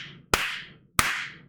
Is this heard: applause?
yes